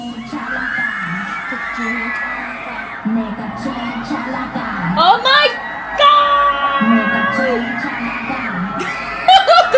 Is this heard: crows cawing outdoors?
no